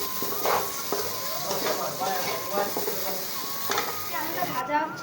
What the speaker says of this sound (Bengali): এদিকে আমাদের আলু ভাজাটা কী হলো দেখে নিই।